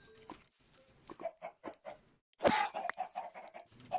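Chickens in a Minecraft-style video game cluck in a run of short, clipped bursts, with a louder cluster near the middle and no talking over them.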